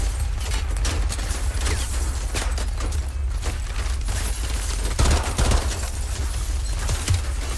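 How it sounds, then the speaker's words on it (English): Sustained gunfire in Modern Warfare 2 Remastered, with dense rapid automatic bursts and layered shots rattling continuously over rumbling battle noise, loud and close. "Uh oh, you're shooting me."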